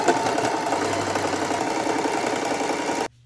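A sewing machine runs steadily while stitching a patchwork wizard hoodie together, a continuous mid-level mechanical whirr that stops abruptly near the end.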